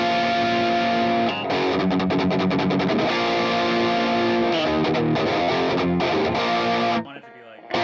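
Open chords ring on an electric guitar through an HX Stomp distortion with tube screamer, a thick, sustained crunchy rhythm sound with a few quick strummed hits, cutting off near the end.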